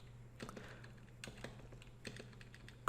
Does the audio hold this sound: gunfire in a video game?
no